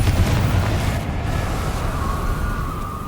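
Sustained, dense rumbling blast noise from Confringo and Bombarda spell explosions in a wizarding video game, a loud continuous roar with no distinct separate hits.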